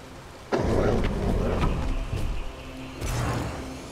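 Thunder from Zeus's Thunder God's Might in the video game Hades comes as two sharp crackling strikes, each followed by a rumbling roll, the second arriving about two and a half seconds after the first.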